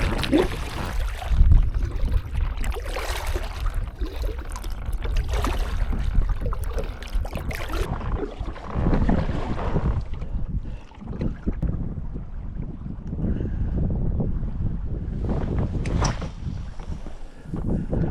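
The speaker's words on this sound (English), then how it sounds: "And just do a little paddle around the pond." A kayak paddling around a weedy pond on a lightly breezy day, with close, rumbling wind buffeting and intermittent paddle splashes and water swishes, no talking.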